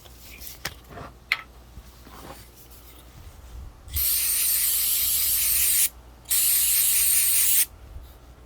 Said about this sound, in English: Spray it down some more. I'm gonna use good old 3M.